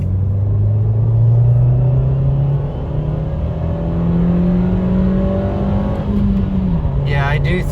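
A 2023 Nissan Versa S with a manual gearbox accelerates hard in second gear, its engine note climbing steadily under a constant road rumble. The sound is heard from inside the cabin with the engine droning throughout.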